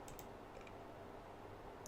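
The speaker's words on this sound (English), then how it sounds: "That was my keyboard." Soft computer keyboard typing, a few quick clicks near the start over a low, steady background hum, faint and close, with no voices.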